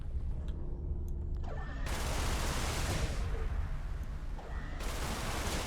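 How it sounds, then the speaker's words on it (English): Space combat in the video game Everspace, with a burst of rapid weapon fire followed by loud, dense blasts as enemy ships explode, the booming rumble continuing steadily to the end. "Just love shooting these, seeing all these explosions."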